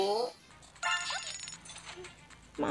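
A short phone notification chime sounds in the Super Stylist fashion mobile game, a bright electronic tone amid game effects, with brief bursts of other sounds at the start and end.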